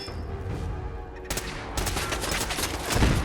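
Automated turrets open fire in Fallout 4, a sustained rattle of rapid shots near a military barracks, building louder partway through over continuous background game noise.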